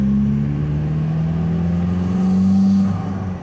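A Toyota swapped with a 1.9L TDI diesel and a GTC2262 turbo pulls hard onto an interstate, its steady engine drone rising in pitch, then dropping sharply as it shifts gears near the end.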